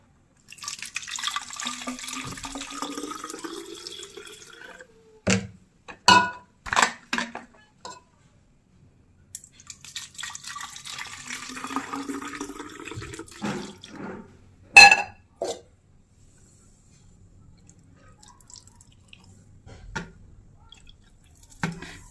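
Goli soda pours into a glass in two bursts, each followed by a few sharp clinks of glass against glass, with quiet gaps between.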